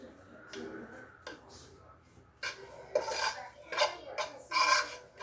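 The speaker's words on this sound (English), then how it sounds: "Then we're just going to fluff it around here." Rice being fluffed with olive oil in a pot: a spoon scrapes and clinks against the pot in several irregular bursts, close and fairly crisp, with quiet gaps between strokes.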